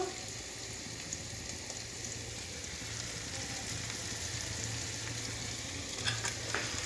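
Spices with chili, turmeric and salt being stirred and mixed in a frying pan, a steady soft sizzle with faint scraping throughout and a couple of brief clinks near the end.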